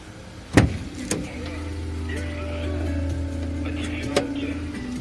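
A 2019 Opel Movano van engine with 65,000 km idles steadily at close range, with a couple of sharp clicks and knocks over the low hum.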